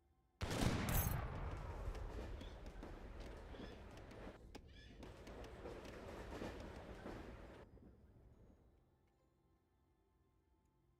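Heavy mortar fire in a war video game: a loud, booming blast bursts out near the start and rolls into a long, dense rumble of explosions and gunfire that slowly fades after several seconds.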